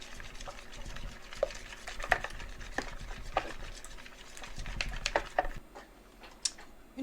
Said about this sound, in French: on fouette bien, on mélange bien